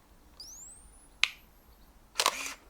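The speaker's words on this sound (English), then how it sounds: "they sound like your proper old-fashioned camera, like sound effect." A Canon 500n 35mm film camera fires its shutter, a sharp click followed a second later by a louder burst of mechanical whirring from the automatic winding, close and alone in a quiet room.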